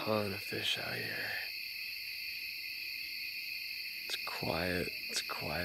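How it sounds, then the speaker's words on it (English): Crickets chirp in a steady, shrill chorus on a calm, clear night out on the water, continuing throughout while a voice speaks briefly at the start and again near the end. "There are a million crickets out."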